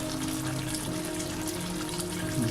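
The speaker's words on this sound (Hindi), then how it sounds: "2 से 3 गिलास पानी और डालूँगा ताकि थोड़ा सा इसमें शोरबा बनाओ" Water is poured into a pot of pressure-cooked white beans (lobiya): a steady, close, continuous splashing pour with no talk.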